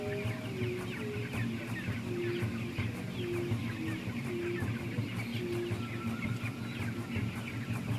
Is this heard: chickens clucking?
yes